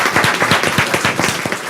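Attendees at a city council meeting and public hearing clap in a short round of applause, a steady patter of individual hand claps from a modest crowd, fairly close, with no talk over it.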